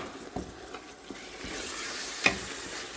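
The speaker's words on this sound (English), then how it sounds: "Still frying this." Red bell pepper and long pepper frying in a stew pot for a meatless stew: a steady close sizzle with occasional stirring scrapes and clinks, building to a fuller hiss toward the end.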